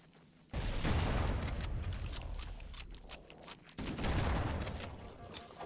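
Loud shotgun and weapons fire in the video game Halo CE, a dense, continuous barrage that briefly drops out and then resumes with heavy booming blasts.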